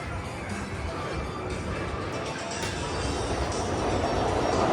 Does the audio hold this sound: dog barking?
no